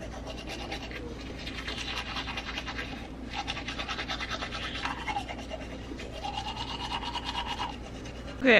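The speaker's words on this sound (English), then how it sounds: "Brush my teeth." Teeth are brushed with a cheap Dollar Tree toothbrush, a close, continuous scratchy scrubbing in quick back-and-forth strokes with a brief pause partway through.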